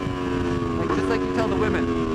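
An Aprilia RSV4 RF superbike engine drones steadily and close under heavy wind rush, with a brief stutter partway through.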